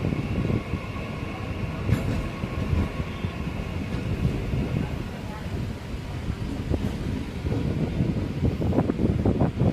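Passenger train pulling out of a station platform on an Indian route from Chennai toward Bangalore, a continuous close rumble and rattle with wind noise on the microphone.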